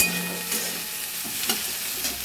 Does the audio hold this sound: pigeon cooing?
no